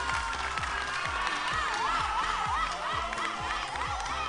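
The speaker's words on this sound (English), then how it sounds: "You actually deserve the applause." An audience applauds a child's self-composed song on a kids' talent show, a steady wash of clapping with some cheering over a rhythmic backing track.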